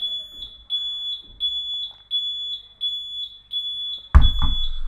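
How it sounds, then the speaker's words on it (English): A fire alarm sounds in repeated high-pitched beeps, roughly every half second, loud and steady, with a sudden thump and clatter near the end. "that's why we have this fire alarm going off"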